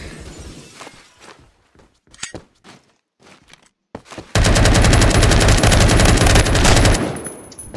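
Suppressed gunfire in a video game: scattered sharp clicks and shots give way to a loud, sustained burst of rapid automatic fire lasting about three seconds.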